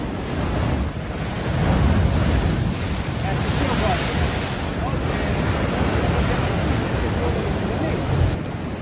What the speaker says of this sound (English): I think it's normal that the sea gets rough anywhere in the world, and yes, it can get rough here too in the winter.